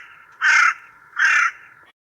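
Two loud, harsh caws from crows come close together at near range against a quiet background with a faint steady hum.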